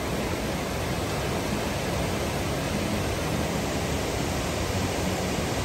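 The Cachoeira do Aruã waterfall pours in a dense, constant roar, loud and unchanging throughout with no voices.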